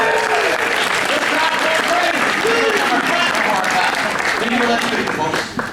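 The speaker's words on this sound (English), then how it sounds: "Listen to that applause, say it over!" An audience at a horror makeup show breaks into loud, sustained applause that fills the room, with voices calling and cheering through it before it tapers at the end.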